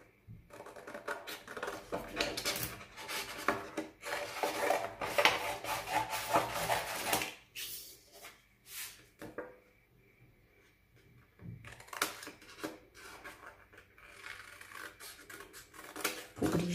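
Scissors cutting out hand-colored paper clock hands, with bursts of rasping snips and paper rustle close by, separated by short pauses.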